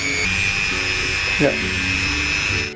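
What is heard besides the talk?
Mollar MG005 mini grinder switched on and running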